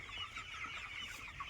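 Chickens cluck steadily in a close, continuous chatter of overlapping calls, moderately loud with no voices on top.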